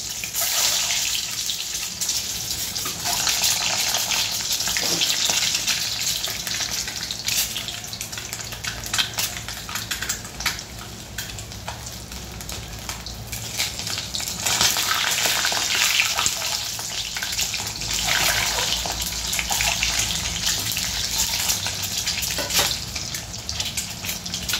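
Slit boiled eggs fry in hot oil for an egg curry, a steady, continuous sizzle with a wet, watery hiss that swells and eases slightly over a long stretch, with no talking.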